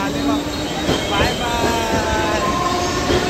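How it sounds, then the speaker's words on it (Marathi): A crowded Mumbai local train pulls out of the station, wheels squealing and clattering over the rails in a loud, continuous rumble close by, with voices heard over it. "चालली ट्रेन, ट्रेन चालली."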